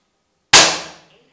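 An FX Crown GRS air rifle fires a hybrid slug into a pellet trap, one sharp loud crack out of silence that decays quickly, followed by a faint tap of impact.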